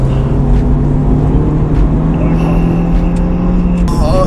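A Mercedes C180 AMG engine roars loud and close in a steady, throaty drone with shifts in pitch as it revs and accelerates, while faint voices talk beneath it.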